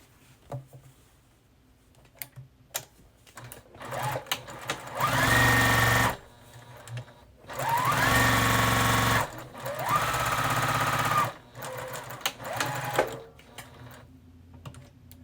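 Sewing machine chain piecing quilt fabric, running in several sustained bursts of stitching separated by short pauses and light handling noises, close and fairly loud.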